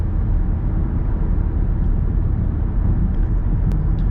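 Inside a 2025 Toyota Corolla LE at cruising speed, a steady, even road and wind rumble fills the cabin with no talking.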